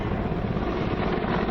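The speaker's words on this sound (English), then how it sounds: "This is a Mi-17." A Mi-17 military helicopter at a military exercise in Ladakh produces a loud, steady roar of rotor and engine, close and continuous, with no talking.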